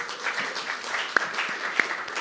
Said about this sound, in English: He deserves the applause